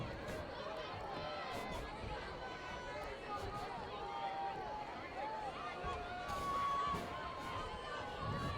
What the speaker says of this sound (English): Nice crowd here tonight.